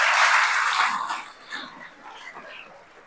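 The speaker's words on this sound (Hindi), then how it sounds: "एक बार उनके लिए जोरदार ताली बजाएंगे" Applause for a guest at a live gathering: a dense wash of clapping starts loud and thins out over a few seconds, giving way to scattered claps and murmurs.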